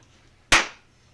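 A single sharp hand clap, close and crisp, with a quick decaying tail against a quiet background.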